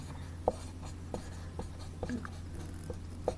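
Chalk tapping and scratching on a board as an equation is written during a physics lesson, a series of short faint strokes at an uneven rhythm with no talk.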